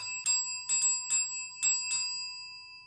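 A small bell rings about six times in quick, uneven strikes, each with a bright sustained tone that rings on between hits.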